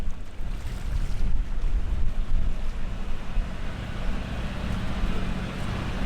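Steady wind blows across open sea off the Kenyan coast, with a broad rushing noise and low buffeting against the microphone, no voices.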